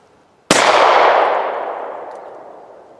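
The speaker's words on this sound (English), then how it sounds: "It's obviously not a good idea to shoot at steel such close range." A single .38 Special gunshot striking an angled steel plate at close range, one sharp loud crack with a metallic clang that rings and decays over a few seconds; no voices.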